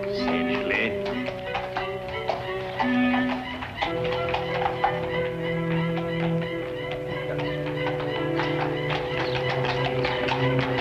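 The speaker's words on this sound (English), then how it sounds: "here comes the legitimate carriage" Horse hooves clip-clop steadily as a horse-drawn carriage moves along a street, mixed into a dense background of sustained tones and other sounds throughout.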